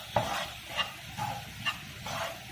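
Upma with turmeric being stirred and roasted in a pan: soft, faint scraping strokes of a spoon repeat every half second or so over a low background hiss, with no talking.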